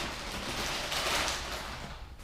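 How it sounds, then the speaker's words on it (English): Steady rain falling outdoors in Pennsylvania, a continuous hiss of drops that stays close and even throughout the short stretch with no voices. "It's actually raining right now."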